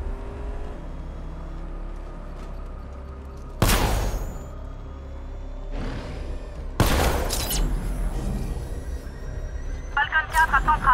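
Gunfire in the video game Batman Arkham Knight, with sharp loud bursts breaking over a steady rumbling vehicle drone, followed by a rapid rattling volley near the end.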